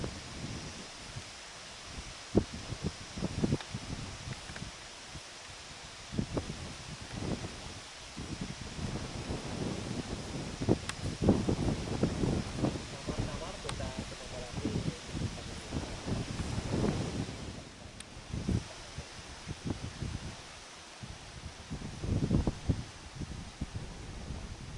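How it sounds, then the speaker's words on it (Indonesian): Strong wind gusts across the slopes of Mount Merapi near Kali Poyong, a continuous rushing roar with buffeting bursts against the microphone, steady and fairly loud throughout with no talking. "Anginnya kencang."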